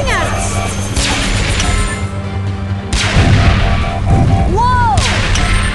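Toy gunfire in a Transformers Rescue Bots adventure with the Evil Morbots, heard as loud booms and crashes mixed with whooshing effects and busy music, with repeated impacts around the middle of the scene.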